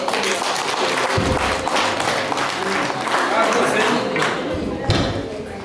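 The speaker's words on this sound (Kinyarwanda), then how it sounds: "Nibakumira amashyi menshi" Wedding guests applaud in a dense, sustained wash of clapping at the celebration of Dominique and Denise, with voices talking over it.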